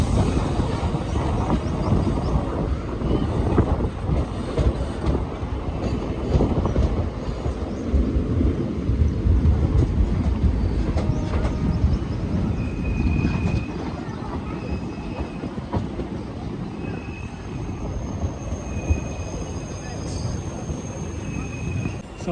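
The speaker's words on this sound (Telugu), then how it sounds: "తిరుపతి హజరత్ నిజాముద్దీన్ సంపత్ క్రాంతి ఎక్స్ప్రెస్ అన్ని ఒకటి క్రాస్ చేసుకుంటూ వెళ్ళింది" The Tirupati–Hazrat Nizamuddin Sampark Kranti Express rushes past close by, its rumble and rattling wheels loud for much of the pass before fading to lighter rolling, with a few faint squeals near the end.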